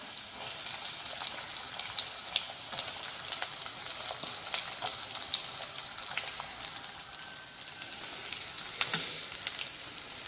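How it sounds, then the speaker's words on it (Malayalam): Sliced onions frying in a pan with ginger for a Kerala-style fish roast, a steady close hiss and crackle of hot oil with occasional spoon taps and no talking. "ഇനി നമുക്ക് സവാള ഇട്ട് കൊടുക്കാം."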